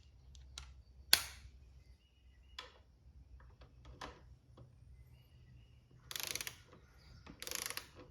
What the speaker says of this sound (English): we'll get that torqued to 17 foot-pounds for the fork cap